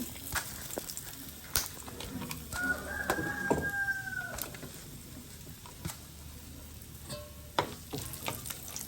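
Black pepper and cashews fry in hot oil with a steady, faint sizzle and scattered pops, while a rooster crows in the background and birds call nearby.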